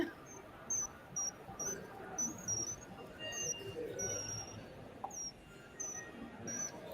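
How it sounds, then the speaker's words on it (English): A minute repeater watch plays a chirping bird sound: a series of high, thin tweets repeats steadily, loud and close, over a faint background rustle. "This is the minute repeater. Excuse me, the chirping bird."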